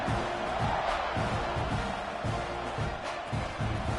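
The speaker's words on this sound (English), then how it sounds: "this crowd is buzzing after that last score" A football stadium crowd at a Penn State game buzzes after a score, a dense, continuous roar of many voices with scattered shouts rising and falling throughout.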